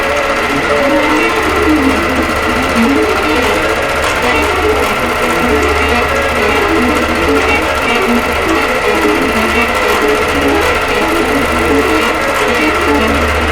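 A long-arm quilting machine stitches the Merriment pantograph design across a Good Tidings quilt, giving off a steady, continuous mechanical whir and hum with a low motor drone that holds at an even level throughout.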